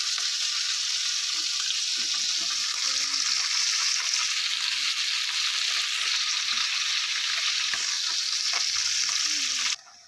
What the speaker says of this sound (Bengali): গুলো আমি দুদিকটাই উল্টে ভালো করে লাল লাল করে ভেজে নেব